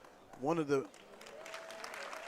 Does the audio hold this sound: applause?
yes